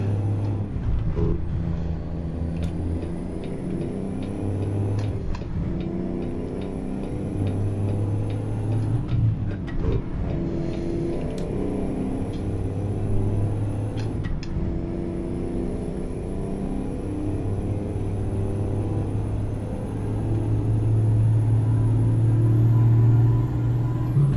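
Deep, steady engine drone of a truck in American Truck Simulator, a loud low rumble holding high revs throughout, with faint ticks and a brief rise in intensity toward the end.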